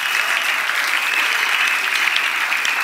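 A church congregation applauds steadily and loudly, a dense wash of clapping holding evenly throughout with no break.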